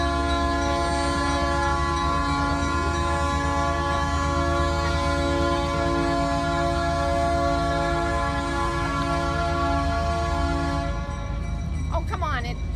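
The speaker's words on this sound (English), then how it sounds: "We get this long train. It's a coal train." A long coal train rumbles past nearby in a steady, continuous roar with sustained tonal hum and rail noise, holding level for many seconds before easing near the end.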